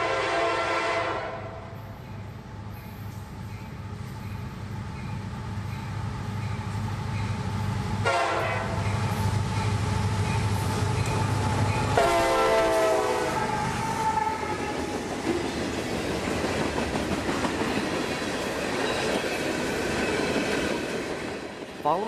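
Freight train led by an EMD SD70MAC passing close at speed, a heavy rumble and clatter of cars with long blasts of the horn sounding partway through, loud and sustained.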